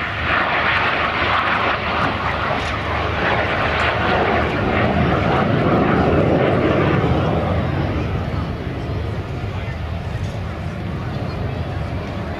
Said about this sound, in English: The Strike Master is modified with a motor-rated engine.